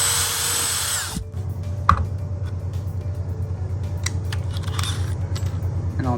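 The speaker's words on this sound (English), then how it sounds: "Now I'm going to pre-drill my hole." A power drill whines at a steady pitch while boring into wood, preceded by a short high burst, with faint clicks and knocks over the hum.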